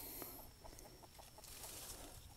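Chickens in a young apricot blossom orchard give a series of soft, quick clucks, faint and steady, over a constant background hiss.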